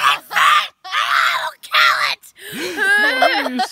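A child screams repeatedly inside a tent at a campsite, three loud, raw shrieks separated by short gaps, followed by a wavering, whimpering cry, close and dominant.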